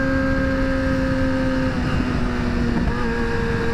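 A Yamaha FZ-07 motorcycle revs nearby during a night wheelie, a sustained droning engine note that shifts pitch, mixed with a steady rush of wind.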